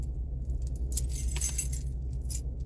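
A large bunch of keys for a property manager's rental units jangles and clinks close by in bright, irregular bursts over a steady low hum, with no talk.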